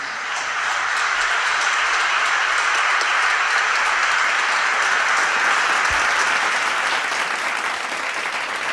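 A Jehovah's Witnesses audience claps enthusiastically in sustained, dense applause that fills the whole stretch at an even, loud level without a break.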